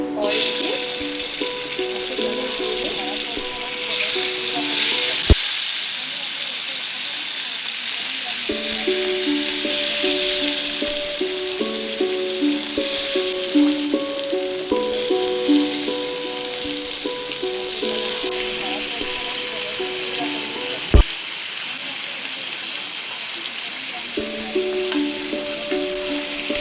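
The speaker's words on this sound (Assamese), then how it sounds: "চিকেনখিনি ফ্ৰাই কৰিবৰ কাৰণে অকণমান অইল দি" Chicken pieces frying in a little oil in a home kitchen for butter chicken, a steady broadband sizzle running throughout with intermittent tonal background music and a couple of sharp clicks.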